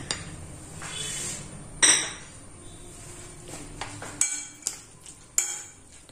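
A spoon stirs a little turmeric into a vadukapuli lime pickle mixture in a bowl, with soft scraping and several sharp metallic clinks against the dish.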